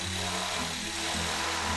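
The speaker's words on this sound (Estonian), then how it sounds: "Järjest põrisevad augud seina." A power drill bores holes into a wall during a young builders' competition, a steady rough whir held at even loudness throughout, with no voices over it.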